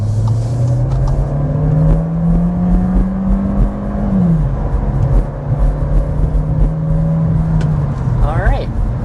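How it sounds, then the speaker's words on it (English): The 2026 Volkswagen Jetta's engine drones loudly under hard acceleration, pitch climbing steadily through a gear before dipping and rising again, with road noise underneath and someone talking over it. "we need to go ahead and start with a hard acceleration"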